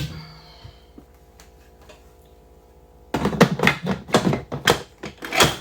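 A pressure cooker lid being fitted and locked in place, several sharp clattering clicks and knocks close up after a quiet stretch with a faint hum.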